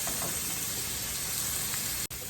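Carrot frying in oil in a pan, a steady close sizzle with bright hissing that cuts off abruptly near the end.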